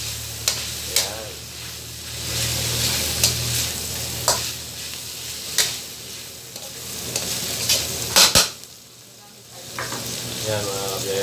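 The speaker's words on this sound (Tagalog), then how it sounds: "So, nag-brown na yung ating bawang. Imi-mix natin ngayon ang ating chicken dito." Chicken is stirred into browned garlic in a hot frying pan for chopsuey, with a steady loud sizzle broken by repeated scraping stirs of the utensil against the pan.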